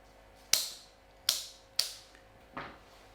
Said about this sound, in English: I'm going to cut the acacia into sort of smaller, slightly more manageable pieces.